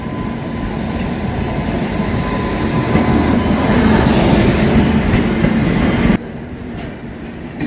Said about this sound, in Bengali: কোন ট্রেন ঢুকছে?